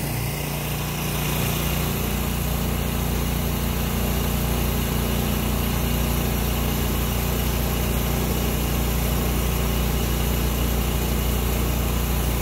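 A truck engine runs steadily at idle while the axles of a Landoll 455B oilfield trailer are slid forward, a continuous low droning rumble, fairly close and alone with no talk.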